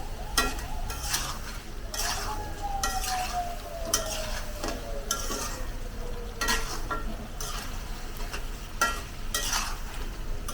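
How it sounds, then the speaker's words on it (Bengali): Rice and chicken fry in oil with salt and turmeric for khichuri, a steady close sizzle broken by repeated scraping strokes of a spoon stirring the pot at a regular rhythm, with no talking. "এখন একটু হলুদ দিয়ে দিলাম একটু ভাজা ভাজা হোক"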